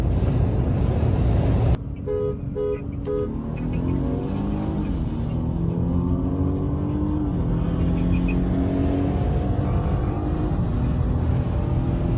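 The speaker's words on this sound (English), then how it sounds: "Hit the gas to the floor." A BMW F30 328i with a stage 1 chip tune and downpipe accelerates at full throttle, its loud engine note rising steadily over about ten seconds after a sharp start, with faint voices and brief toots beneath.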